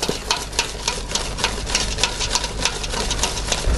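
Egg yolks and sugar being stirred briskly in a bowl for crème anglaise, a rapid run of scraping whisk taps in quick, fairly even rhythm, close and continuous with no talking.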